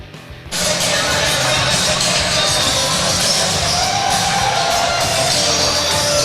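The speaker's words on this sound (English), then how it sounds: "Seems like a lot of crowd noise" Broad, steady roar of a crowd in a gym at a high school basketball tournament, loud and continuous after a brief quieter opening, with scattered shouts and cheers blending in.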